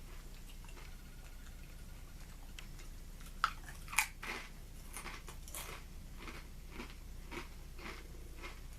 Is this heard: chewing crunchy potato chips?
yes